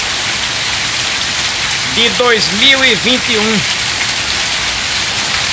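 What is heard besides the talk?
heavy rain falling in the sertão of Pernambuco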